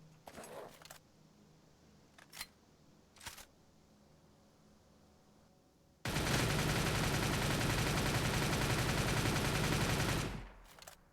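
An RPK machine gun in the video game Cordon fires one sustained automatic burst of about four seconds, loud and continuous, after a few soft clicks and handling sounds.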